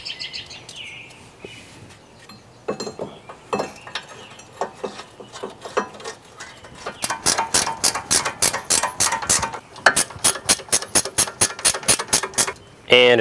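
Ratchet clicking in quick repeated bursts while tightening the front brake caliper mounting bracket bolts on a 2008 Hyundai Elantra 2.0L, loud and close, with a steady run of clicks in the second half.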